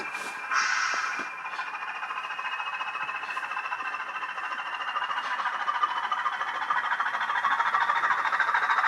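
A Bachmann class 20 model diesel locomotive with sound fitted runs along track, giving a steady droning engine whine with a faint rising tone and light clicks, close and moderately loud, with no talking.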